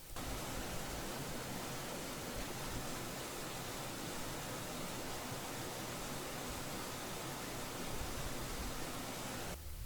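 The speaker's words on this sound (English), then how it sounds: "the ambience is from a plugin called Kia" A soft, steady ambient texture from the Kia plugin forms a wash of noise-like hiss, quiet and unchanging throughout, with no voices.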